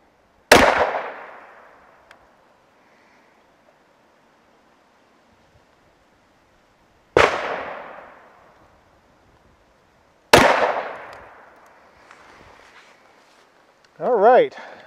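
Three loud, sharp gunshots from a Smith & Wesson M&P 2.0 10mm pistol firing a 180 grain load ring out at an outdoor range, spaced several seconds apart, each leaving a decaying echo, with a brief sound after the last.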